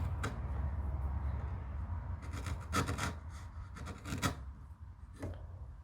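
An emery board files a hand-cut wooden dovetail pin for a large jewelry box, making faint, close rasping strokes in short clusters separated by quiet pauses.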